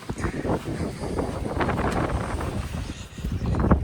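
Strong wind buffets the microphone outdoors on a farm during crop spraying, with a steady low rumbling roar and gusty fluctuations throughout.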